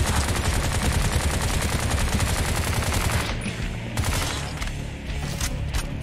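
Sustained rapid machine gun fire from the Bright Memory shooter game, a dense, loud rattle that runs continuously for several seconds before breaking into a few separate bursts.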